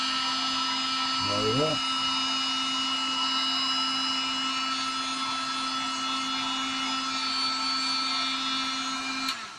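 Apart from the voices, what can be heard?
heat gun blowing while heating motorhome repair part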